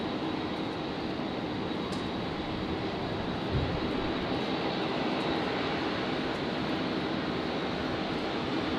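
A Rex airliner departs Brisbane airport runway 01 right with a broad, steady jet roar that stays constant and fairly distant throughout.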